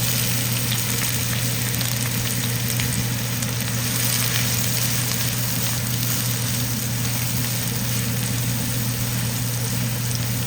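Onions frying in a pan for a shrimp gravy, a steady, dense sizzle that stays loud and even throughout, close up with no talk.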